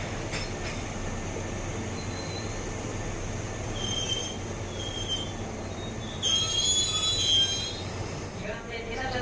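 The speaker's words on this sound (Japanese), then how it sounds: "鬼怒川温泉方面新藤原行き1番線からの発車です。" Train wheels squeal in high, drawn-out tones as a train pulls away from a platform at Shimo-Imaichi station on the line toward Kinugawa-Onsen and Shin-Fujiwara, over a steady rumble of rolling cars, with the squeal loudest near the end.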